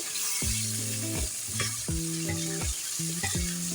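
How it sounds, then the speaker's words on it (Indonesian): Salted fish stir-fried in a pan sizzles steadily and loudly, with a spatula scraping and clattering against the pan in repeated strokes. "Aku maunya dioseng-oseng aja di sini si ikan asinnya ya."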